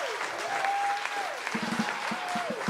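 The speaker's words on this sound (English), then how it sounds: "let's just give her one more huge round of applause" Audience applause at a jazz quintet concert, steady broadband clapping from a crowd throughout, with a whistle-like tone rising and falling over it and a few louder claps near the listener.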